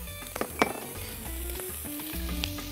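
Onion dropped into hot oil sizzles steadily, a continuous close frying hiss with a few light clicks of a utensil near the start.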